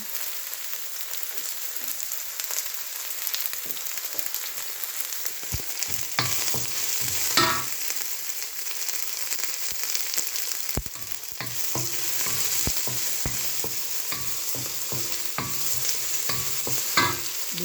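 Garden-fresh vegetables with garlic fry and sizzle steadily in a pan, with stirring scrapes and clinks coming close and clear throughout and a few sharper utensil knocks. No one speaks.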